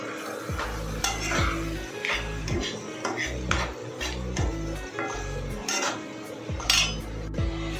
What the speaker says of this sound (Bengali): সবগুলো ভালো করে মিক্স করে নিয়েছি